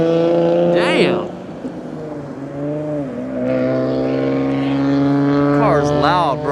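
A loud Nissan 350Z sports car engine drones and revs nearby in city traffic, its pitch rising and falling, with brief voices talking over the roar.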